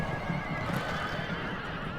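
Cavalry horses neigh and gallop in battle in the Rome Total War video game, whinnies over a continuous thunder of hooves and dense low rumble with no talk.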